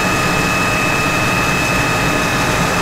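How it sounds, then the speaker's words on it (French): A 125-horsepower tractor engine runs at full throttle on a power dynamometer, a loud, steady, unbroken roar with a high whine held constant throughout, no voices. "le tracteur est à fond là"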